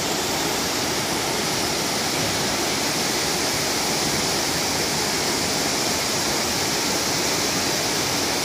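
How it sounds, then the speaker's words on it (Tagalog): Steady, full-bodied roar of a waterfall at Mountain River Resort in Oriental Mindoro, broadband and constant throughout, close and loud with no voices over it. "Ito na yung sinasabi niyang falls."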